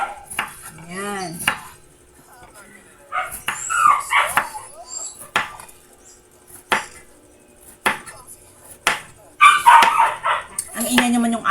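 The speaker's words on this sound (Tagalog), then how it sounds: "Ang ingay naman yung aso." A pet dog named Snowy barks in sharp bursts in a home kitchen while bitter gourd is sliced for dinner, the barks loud and close, scattered irregularly across the stretch, mixed with clinks of dishes and chopping and brief talk.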